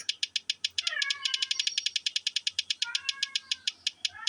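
A cat meows from nearby, with a couple of drawn-out, wavering meows rising over a steady, rapid ticking of game sounds.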